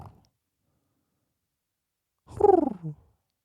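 A woken cat gives a short purring, rumbling vocal burst, close and fairly loud, after a near-silent stretch.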